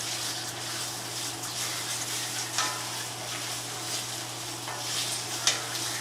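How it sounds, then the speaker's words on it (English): Hormel sliced dried beef fries in a pan with a soft, steady sizzle, quiet and continuous, with a few faint stirring scrapes. "This is Hormel sliced dried beef. Remember, this stuff's pretty salty. And we're just going to put that in there. It's going to fry a little bit."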